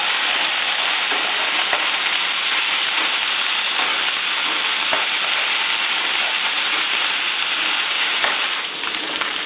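Ground beef for tacos fries in a pan on the stove with a loud, steady sizzle and crackle. The hiss stays close and continuous with small pops, and no one speaks.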